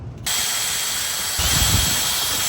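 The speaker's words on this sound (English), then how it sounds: "We're going to drill 2 holes there." A power drill bores holes in a Stormtrooper helmet, starting abruptly as a steady loud whine that rises in intensity partway through and continues to the end.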